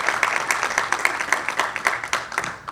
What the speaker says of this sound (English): Round of applause for Andrew Casillas.